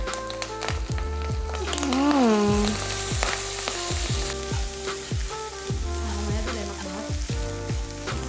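Black seasoning paste for black fried rice frying in a hot pan, a steady sizzle broken by repeated rhythmic clanks of a utensil against the pan and a brief rising whistle-like squeal.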